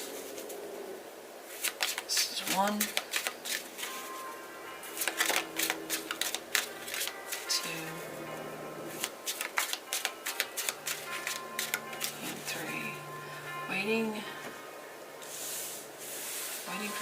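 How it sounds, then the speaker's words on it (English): Tarot cards shuffled in repeated quick riffling bursts across a long stretch, close and crisp, with a few brief spoken words in between. "Three shuffles."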